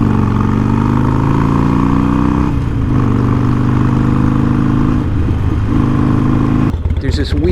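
A Harley-Davidson Sportster 48 engine runs loud and steady up close, with a faint metallic clanking mixed into the drone before it cuts off near the end.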